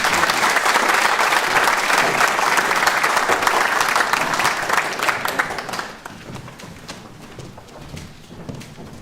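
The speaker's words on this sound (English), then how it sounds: "Can we have another round of applause just for our amazing graduates" A graduation audience applauds its graduates in a full, steady burst of clapping that fades out around the midpoint, leaving a few sparse claps and faint room noise.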